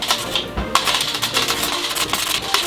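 Potatoes sliced by hand on a mandoline into half-centimetre slices for a French kitchen dish, a quick run of close, sharp clicking and scraping strokes with no talking.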